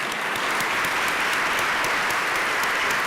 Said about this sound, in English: let's give one more round of applause for these amazing panelists and moderator